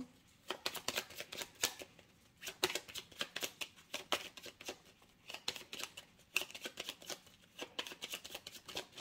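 Tarot cards shuffled and drawn up close, quiet rapid riffling flicks and slaps in uneven bursts with brief pauses, no speech.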